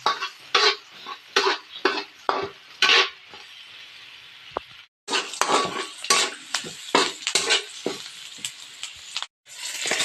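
Chopped onion and a little ginger sizzle loudly in a hot pan for buttered shrimp, with repeated rhythmic scrapes and clinks of a utensil stirring against the pan, close up and with no talk.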